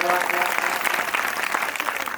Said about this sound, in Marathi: त्याकरता सर्वांनी एकदा टाळ्या वाजवा